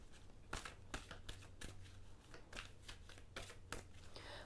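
Tarot cards shuffled by hand, a rapid series of crisp riffling snaps and slides in an irregular rhythm, close and soft, with no talking.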